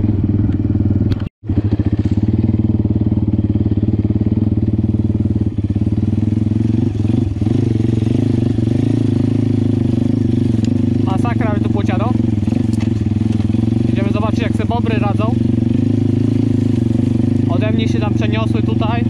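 A Pitgang 140XD pit bike engine drones steadily while being ridden, a loud continuous low hum with brief clatter and a short dropout early on, as a rider's voice talks over it in places.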